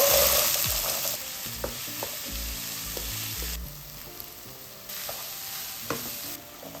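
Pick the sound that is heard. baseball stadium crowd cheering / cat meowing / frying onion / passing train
frying onion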